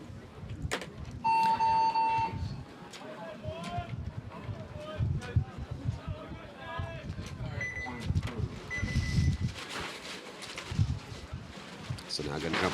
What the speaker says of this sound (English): Going to sprint in, hit that buzzer.